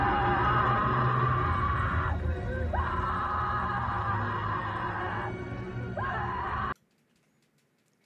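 A man's long, loud anguished scream in a Godzilla Minus One movie scene, drawn out and wavering over a rumbling background, then abruptly cutting to near silence.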